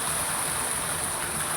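Heavy rain pours down in a loud, dense, unbroken hiss that holds constant from start to finish, with no voices.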